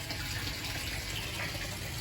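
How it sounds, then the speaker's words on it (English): A steady, gentle pour of fresh water topping up a Doitsu Showa koi fry tank, a continuous close trickling gush with no break. "So I'm slowly topping the water up"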